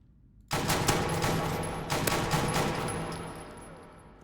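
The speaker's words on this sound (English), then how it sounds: "So this fires 45 rounds." A .45-calibre gun fires in a modded Fallout 4 game, with a sudden loud onset, then a dense burst of shots that sounds like rapid automatic fire and slowly fades with a lingering tail.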